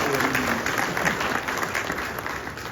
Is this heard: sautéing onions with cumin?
no